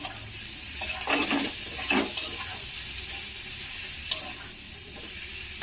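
Potatoes and previously fried prawns are stirred into hot spices in a pan, giving a steady close sizzle with a few scraping strokes of a spoon and occasional clinks, no voices.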